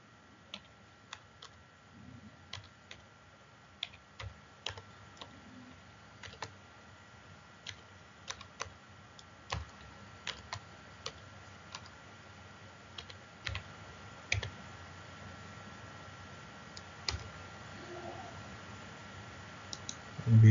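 Keys on a computer keyboard tapped in short, irregular bursts of crisp clicks, fairly faint against a quiet room background, with no other activity.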